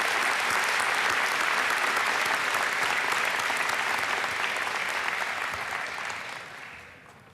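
A convocation audience applauds university award winners, a large, dense, steady round of clapping that holds evenly for several seconds before tapering off at the end.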